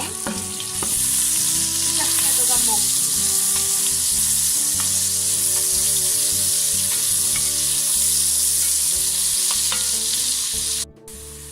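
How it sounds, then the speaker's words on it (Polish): Diced onions sizzle and crackle steadily in hot fat for pea soup, a loud continuous frying hiss with occasional stirring clicks, close up. "Pokroiłam cebulkę w kostkę, smażę ją."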